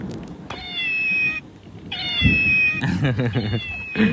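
A cat meows several times, high and drawn-out calls close by, with a person's voice and other household sounds mixed in between.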